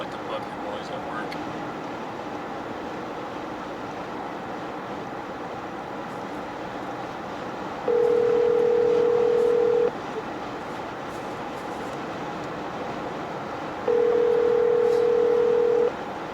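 Two long, steady electronic ringback tones sound on a phone call, each lasting about two seconds with a pause between, heard over a low background hum.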